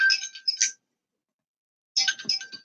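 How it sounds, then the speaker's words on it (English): A bright, chiming phone ringtone plays a short melodic phrase, goes silent for over a second, then starts again. "Let's get into the ringtones, shall we"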